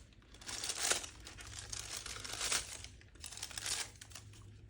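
A plastic bag twisted and tied off by hand crinkles in three close, loud bursts of crackling, with softer rustling between them and no voices.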